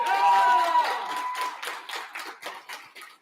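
A debate audience at a conference claps for a motion, with dense applause that thins into scattered claps over about three seconds and brief voices mixed in.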